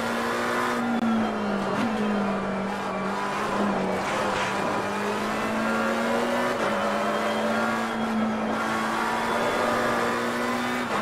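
A GT race car engine from Assetto Corsa Competizione drones steadily at high revs during a night race. The pitch wavers slightly with throttle and there is a faint tyre scrub, loud and continuous with no talk.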